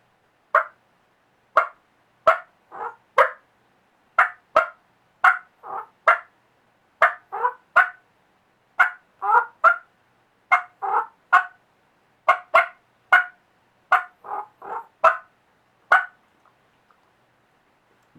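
A mouth turkey call imitates a wild turkey hen with a long series of short, rolling purrs and clucks in irregular groups, close and clear against silence.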